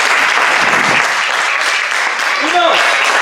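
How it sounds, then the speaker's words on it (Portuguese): A church retreat crowd claps steadily in a dense, continuous burst of applause lasting several seconds, loud and close, with a brief vocal whoop near the end. "Palmas para todos vocês."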